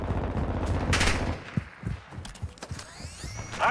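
Gunfire from tactical rifles in a Call of Duty Hardpoint match: a rapid automatic burst early on, then scattered sharper shots and clatter trailing off, with game effects in the background.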